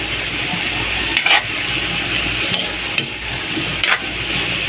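Baggy beans and tofu sautéed in a pan, a loud, steady sizzle with a few sharp knocks of the spatula against the pan.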